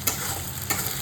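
Spice paste with ginger stir-fried for mutton kosha, a dense close sizzle broken by two sharp stirring scrapes of the spatula.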